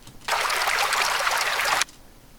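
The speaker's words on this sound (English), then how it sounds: "I'm going to bring in my sound effect of the water flowing" A steady burst of flowing water as a sound effect, starting abruptly, running evenly for about a second and a half, then cutting off cleanly into near silence.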